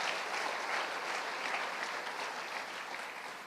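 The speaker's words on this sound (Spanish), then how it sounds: "Dale un aplauso fuerte al Señor, aleluya." A church congregation breaks into steady, full applause, a dense wash of many clapping hands that fades slightly toward the end.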